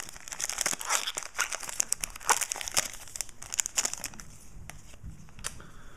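Foil wrapper of a 2009-10 Panini Certified basketball trading card pack being torn and crinkled open, a close, dense run of crisp crackles and rips that thins out toward the end.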